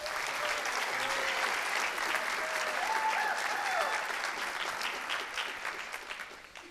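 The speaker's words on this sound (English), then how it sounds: "Let's give her a round of applause." Families at a senior honors night applaud a graduating student with sustained clapping from a large room. A few voices rise through the clapping before it slowly tapers off.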